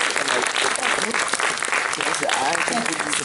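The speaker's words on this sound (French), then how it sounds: "Applaudissons-les, applaudissons-les." Loud audience applause fills a theatre, dense clapping from a large crowd, with voices cheering and talking mixed in over it throughout.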